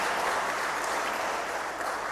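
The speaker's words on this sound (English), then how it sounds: "May we give him a louder clap than we have given him." A keynote audience claps as one continuous, fairly loud wall of applause, even and sustained without pauses or talking.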